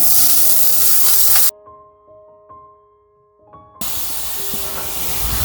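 Carrots go into hot oil already crackling with cumin seeds, a loud close sizzle that cuts out abruptly to near silence with faint tonal hums and clicks, then bursts back into steady frying hiss.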